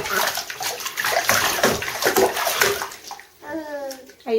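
Water sloshes and splashes in a child's bathtub, close and fairly loud, with an adult speaking over it and a brief high-pitched squeal near the end.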